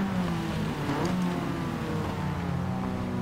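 Race cars in a racing game pass by on a wet track at Tsukuba in the rain, engines droning and revving in a continuous mid-pitched roar, loud and close, with no talk over it.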